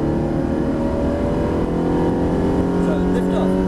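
A Ferrari 360 supercar being driven on the Brands Hatch race track, with a loud, constant engine drone heard from inside the car while an instructor talks over it.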